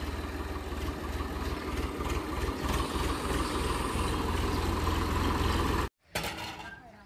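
A tractor engine idles steadily on a farm as a can of milk is loaded aboard, a constant low rumble with faint metallic clinks, then it cuts out abruptly and the engine noise returns after a short gap.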